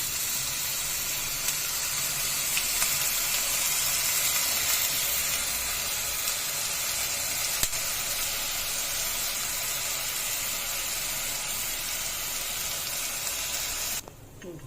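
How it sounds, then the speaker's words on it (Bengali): Foxtail millet frying in ghee in a pan on a home stove, a continuous bright sizzling hiss held steady for several seconds before cutting off abruptly near the end. "কাউন চালটাকে আমি ঘিতে ভেজে দেব"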